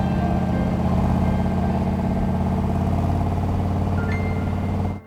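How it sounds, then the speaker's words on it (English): A Chevrolet Corvette with a 427 engine, three deuces and side pipes rumbles steadily and loudly nearby, a deep throbbing exhaust note holding for about five seconds before cutting off abruptly, with no talk. "With a 427, 3 deuces, and side pipes, this car not only had a great sound"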